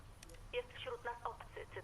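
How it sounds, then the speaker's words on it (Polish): Faint telephone tones and a short electronic ringing pattern from an orange phone booth in Fortnite, brief and quiet over low background hum. "tutaj jest budka telefoniczna, pomarańczowa taka i zaczynamy"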